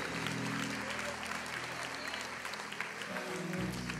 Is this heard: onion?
no